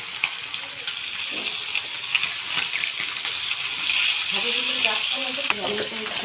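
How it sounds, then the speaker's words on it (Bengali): Potatoes fry in oil in a home kitchen cooking fish with eggplant, a steady loud sizzle that runs throughout, with faint voices underneath. "এখানে আলুটা ভালো করে ভেজে নিচ্ছে"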